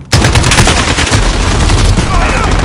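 Dense, loud automatic gunfire from the Call of Duty Modern Warfare video game rings out as a continuous fusillade of rapid shots, close and sustained for the whole stretch with no pause.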